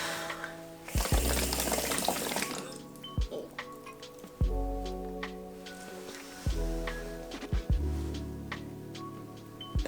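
Hard blowing through a shisha pipe sends repeated bursts of bubbling gurgles through the water, several separate pulses of churning bubbles, close and fairly loud, with no talk.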